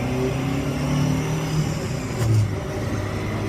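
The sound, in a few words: classic SAAB car engine while driving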